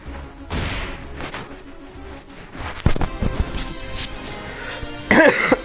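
A streamer coughing and clearing his throat close to the microphone while playing Final Fantasy X HD, with a few rough, loud bursts spread over the stretch.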